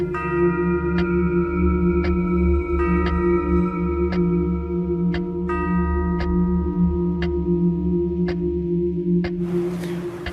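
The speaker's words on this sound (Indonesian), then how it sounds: "Kenapa jam ini bunyi terus?" A clock ticks steadily at regular intervals, each tick ringing with a bright metallic tone over a loud, sustained low hum.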